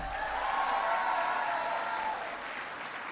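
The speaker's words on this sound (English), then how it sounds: "Give them a big round of applause." An audience at a political speech in Minnesota applauds, a soft, distant blur of many hands clapping that holds steady and then eases slightly toward the end, with no voice heard over it.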